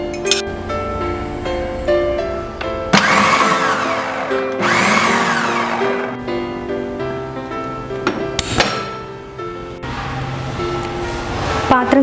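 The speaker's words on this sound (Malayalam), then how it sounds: "ഇനി നമുക്ക് കുക്ക് ചെയ്ത് വെച്ചിരിക്കുന്ന മീറ്റ് ഒരു ഫുഡ് പ്രോസസ്സറിലോ മിക്സിയിലോ" A food processor minces cooked meat for cutlets. Bursts of loud whirring and grinding blade noise start and stop several times, separated by brief pauses, with clattering pulses and no speech.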